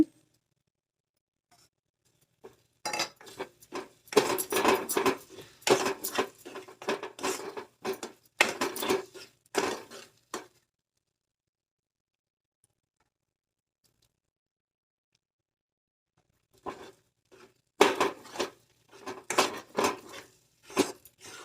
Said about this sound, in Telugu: ఇప్పుడు కొద్ది కొద్దిగా నెయ్యి వేసుకుంటూ కలుపుకోవాలి